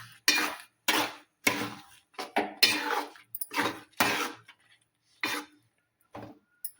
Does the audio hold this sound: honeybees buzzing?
no